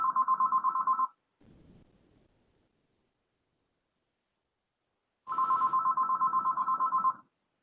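A mobile phone ringing during a transit board work session, two bursts of fast repeating electronic trill separated by a few seconds of quiet, near and clear.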